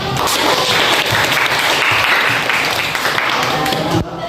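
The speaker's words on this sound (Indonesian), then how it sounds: "kasih aplaus dulu" Students in an Indonesian classroom clap together loudly in a continuous, busy burst of applause that stays steady for about four seconds before ending abruptly, with some voices mixed in.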